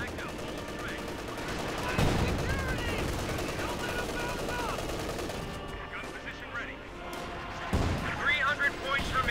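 Machine gun fire and explosions in a Company of Heroes 2 1v1 match between US and OKW forces, with bursts and booms throughout under a continuous commentator's voice.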